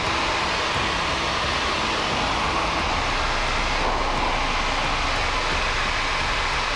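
A Sierra light airplane's engine drones during a test flight, a constant loud broadband roar heard from inside the cabin that holds steady for the whole stretch with no talking.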